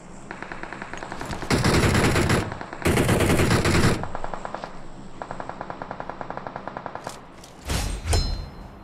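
Automatic gunfire in the battle-royale game PUBG: loud sustained bursts of rapid machine-gun fire with sharp single shots between them and a heavy closing burst, no talking.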